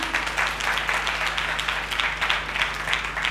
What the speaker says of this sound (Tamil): கைத்தட்டுங்களேன், குட்.